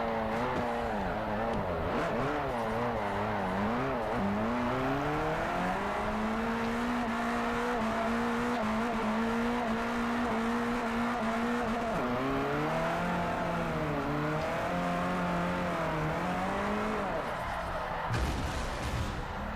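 A Camaro or Scion FRS drifting in a video game: a steady, loud engine roar rises and falls with the throttle and runs almost without a break, with tire noise blended under it and a voice talking now and then.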